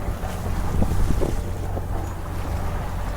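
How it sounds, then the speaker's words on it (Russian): Outboard motor on a sailboat running in light wind off the Greek islands near Naxos, a steady low drone blended with wind buffeting the microphone and water wash, continuous and close. "Пришлось включить мотор."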